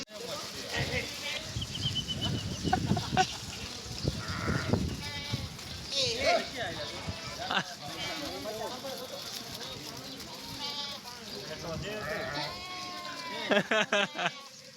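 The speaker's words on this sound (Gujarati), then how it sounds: "ઘેટા એકદમ દોડતા દોડતા આવ્યા" A flock of sheep bleats repeatedly while running, with several overlapping cries near and far and people talking throughout.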